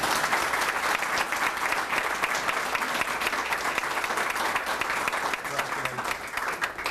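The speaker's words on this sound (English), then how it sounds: "So if you'll join me in a round of applause." An audience at a community foundation's spring grant ceremony applauds in a dense, sustained round of clapping, steady throughout.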